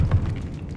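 Confringo blast spell from the Hogwarts Legacy video game, a single short, deep boom that quickly fades into a low rumble.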